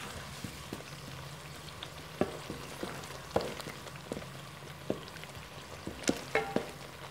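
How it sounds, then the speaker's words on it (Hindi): Chopped tomatoes fry with masala in a pot, a low crackling sizzle broken by scattered sharp pops and clicks of spattering oil, close and unaccompanied by talk. "टमाटर डाल के अब 1 से 2 मिनट फिर भुनाई कर लेंगे इसकी"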